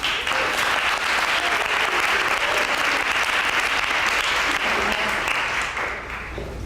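A lecture audience breaks into sustained, loud applause to welcome an author, a dense wash of clapping that stays steady and then begins to taper at the very end.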